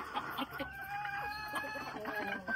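Hens on a small poultry farm cluck and chatter in a busy, overlapping run of short calls, faint and somewhat distant, with no voices.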